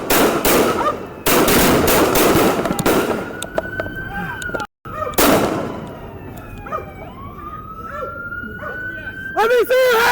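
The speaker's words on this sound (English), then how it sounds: "The officer fired approximately 10 gunshots while the suspect shot once." Gunfire in a police shootout in a national park, with a rapid string of loud, sharp shots up close, followed by a siren wailing and further bangs and shouting voices.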